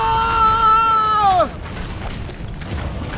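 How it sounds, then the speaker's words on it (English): A character in Assassin's Creed Brotherhood lets out a loud, sustained scream that bends downward and cuts off, followed by quieter game ambience. "What kind of scream was that?"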